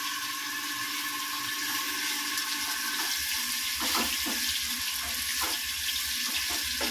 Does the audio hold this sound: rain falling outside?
no